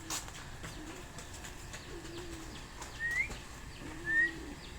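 Pigeons cooing softly in low repeated calls, with faint chirps and light background noise around them.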